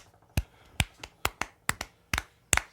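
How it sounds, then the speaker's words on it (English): A slow clap: seven separate hand claps spaced about half a second apart, close and crisp, with no talking over them. "Slow clap for the gentleman."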